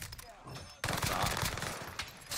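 Dense automatic gunfire in Call of Duty Vanguard Warzone on Rebirth Island, a loud continuous rattle of overlapping rounds that jumps sharply in intensity partway through, with players talking over it.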